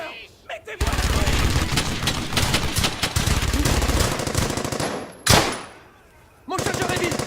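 Automatic and rifle gunfire from a World War II firefight in Brothers in Arms: Hell's Highway, dense and continuous bursts with a sharp explosive blast near the end, a brief pause, then the firing resumes.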